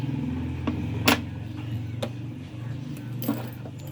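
Freshly duplicated metal keys are handled and jingle in short clinks beside a key-cutting machine, whose steady low motor hum runs underneath throughout.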